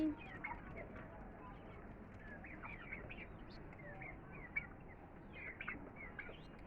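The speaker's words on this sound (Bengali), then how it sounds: "অনেকগুলো পাখি আছে এখানে। আর এর ভিতরে টার্কি মুরগি।" Chickens and turkeys in a poultry pen give soft, scattered clucks and chirps, faint and fairly distant over a low, steady background murmur.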